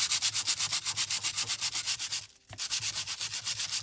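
Sandpaper rubbed steadily over junk mail paper in quick back-and-forth strokes, a close, continuous rasping scratch with a brief pause near the middle before the strokes resume.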